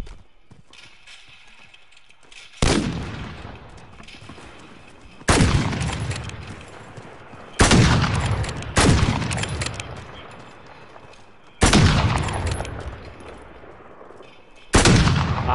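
Sniper shots ring out in a video game, six sharp, loud cracks spaced irregularly a few seconds apart, each with a short decaying tail over a quiet background.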